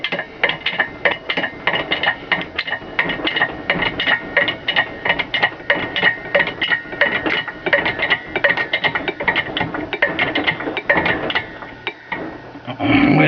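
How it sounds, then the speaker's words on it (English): A 20-ton hydraulic press bending a metal cuff bracelet in a die at a jewelry bench, giving a steady, dense, loud mechanical clatter and grinding with rapid knocking that runs without a break and rises slightly at the end. "apply your 20-ton hydraulic press to form the curvature of the bottom of the cuff bracelet"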